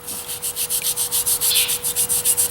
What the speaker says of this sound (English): so basically we're just going to scrub it real light